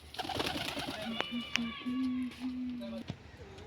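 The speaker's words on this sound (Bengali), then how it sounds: "দেখছো কিন্তু সব পায়রাগুলো, দেখো পায়রা কিন্তু উঠে গেছে সব।" Pigeons coo around their newly built coop, with several soft, low cooing calls rising and falling near the microphone while a person talks over them.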